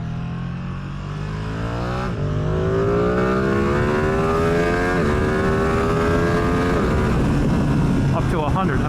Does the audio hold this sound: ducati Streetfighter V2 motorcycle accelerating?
yes